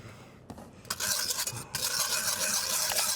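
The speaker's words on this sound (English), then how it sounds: "is just whisk that butter in" Whisk stirring butter into a Bordeaux pan sauce for filet mignon, a busy close scraping and swishing against the pan that grows louder and continues steadily with faint sizzling.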